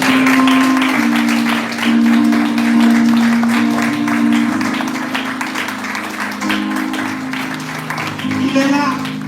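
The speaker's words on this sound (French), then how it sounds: "Je vous demande de l'applaudir." A church congregation claps for a discreet, quietly leading pastor, steady applause running under a sustained sung or played tone and talk throughout.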